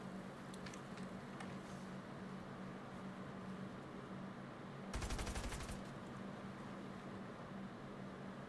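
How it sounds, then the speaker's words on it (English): Rapid video game gunfire rattles out as a short automatic burst of about a second, standing out briefly over a steady, low background hum. "Somebody's trying to shoot at me"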